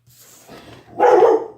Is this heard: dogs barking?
yes